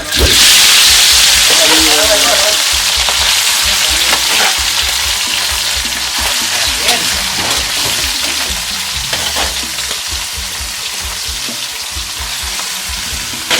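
Duck meat frying in hot oil with steady loud sizzling and hiss, stirred with occasional scraping and clinks, close up while voices talk in the background.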